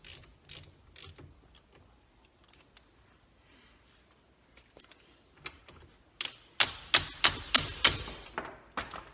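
A nut on a brake caliper is worked with a ratchet: quiet handling at first, then a burst of six or seven loud, evenly spaced ratcheting clicks close by near the end.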